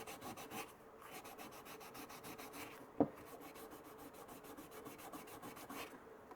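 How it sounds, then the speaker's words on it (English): Steady abrasive rubbing of sandpaper removing paint from a 40-year-old Rambo survival knife's metal, continuous back-and-forth scraping close by with one sharp knock partway through. "The paint actually comes off by sanding it too."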